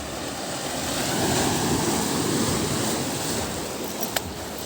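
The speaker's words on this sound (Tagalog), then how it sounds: "Lakas ng hampas ng alon." Strong sea waves crash and wash along a shoreline in a continuous loud roar of surf, swelling slightly in the middle, with no talking.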